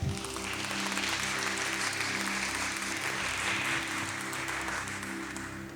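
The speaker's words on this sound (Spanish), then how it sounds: "Denle un fuerte aplauso al Señor." A church congregation claps and cheers in sustained applause, dense and steady throughout, with a low musical drone underneath.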